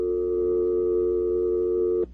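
A steady telephone dial tone hums loud and unbroken for about two seconds after a call is cut off, then stops abruptly.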